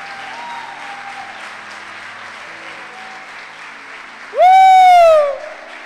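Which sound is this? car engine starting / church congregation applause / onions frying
church congregation applause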